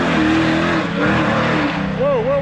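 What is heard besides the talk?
heavily tuned Cadillac engine revving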